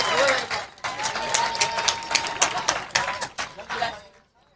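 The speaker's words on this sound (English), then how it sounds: "Round of applause." Audience applause and cheering at a hoop dance contest, a dense burst of clapping that swells and then fades to silence near the end, with voices mixed into the crowd.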